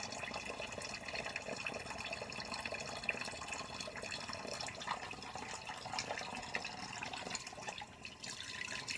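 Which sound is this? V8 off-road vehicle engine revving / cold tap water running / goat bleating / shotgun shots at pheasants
cold tap water running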